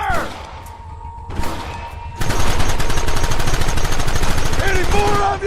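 A Red Dead Redemption shootout: a few scattered shots at first, then dense, loud, sustained gunfire from several weapons, with voices shouting over it.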